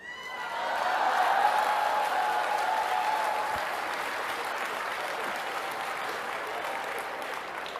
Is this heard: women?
yes